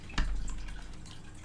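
A single close water drip in the video game The Baby in Yellow lands with a clear plop, followed by a low, fading resonance.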